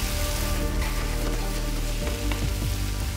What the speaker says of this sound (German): Mutter Aische kocht Dennis Lieblingsgericht